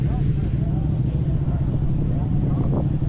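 An old Norton motorcycle fitted with a shiny new exhaust, idling at a busy outdoor bike meet with a deep, close, steady low rumble, while voices murmur nearby.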